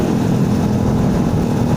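A Honda TMX 155 or Suzuki Raider 150 motorcycle engine with an open exhaust pipe idles and revs loudly up close, a continuous throbbing roar throughout.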